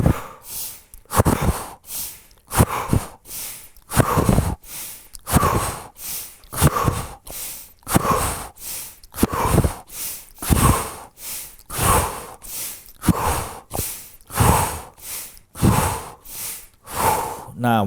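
A man leads a breathing exercise with a long run of deep, forceful breaths, in and out in a steady rhythm, close to the mic with no talk over them.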